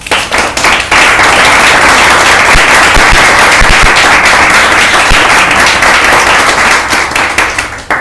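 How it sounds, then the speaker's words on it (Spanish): A church congregation applauds loudly for God, a dense, sustained roar of many hands clapping close by, with no voices rising above it, fading slightly near the end. "¿Puedes dar un aplauso a Dios?"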